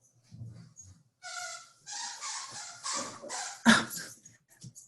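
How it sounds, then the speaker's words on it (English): A pet dog whimpers and yips while squeaking a rubber toy, a close, uneven series of high squeals and short whines with pauses between, one sharp loud squeak near the end, no talking. "my dog has decided he wants to be present for this portion. So I'm sorry if he's squeaking his toy"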